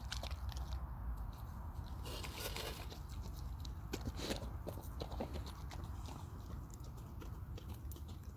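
A wolf chews its food up close, giving steady crunching and gnawing with repeated bites against a low background noise.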